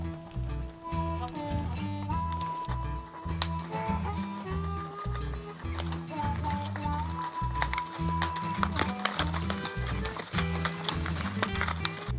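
Horses packed with gear plod down a bush trail in New Mexico while a guide walks along, their hooves clip-clopping steadily under a loud, constant musical bed.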